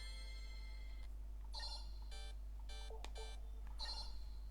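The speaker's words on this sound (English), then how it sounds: "And also we can create our own ringtones." A custom ringtone on a Nothing Phone 2a, built from a sound pack, plays alone as a series of bright electronic chime bursts in an irregular rhythm, clean and close over a steady low hum.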